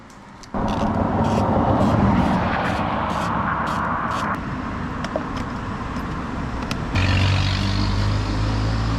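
A BMW motorcycle being ridden after a breakdown gives a loud, steady engine and wind roar throughout, starting abruptly and swelling a little near the end.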